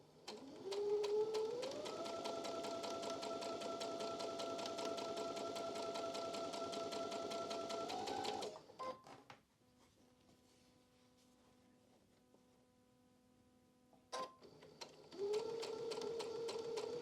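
Sewing machine stitching the corners of a quilted pumpkin block, a steady close mechanical whir with rapid needle pulses that stops mid-way, leaves a quiet pause with faint handling clicks, then starts running again.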